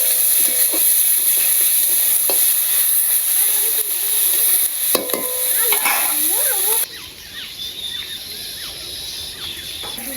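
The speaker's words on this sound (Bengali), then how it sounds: "মাথার মধ্যে পেঁয়াজ দিয়ে মরিচ দিয়ে ভাজছে" Onion and chili hiss and sizzle in a hot pan for a village-style taro stolon dish, a steady broadband frying noise throughout with occasional stirring knocks and brief voices and birdlike calls mixed in.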